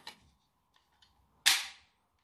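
A small toy missile launcher mounted on a toy bike and fired by its pedal, a faint click, a couple of tiny ticks, then one sharp snapping pop that fades quickly, close and alone.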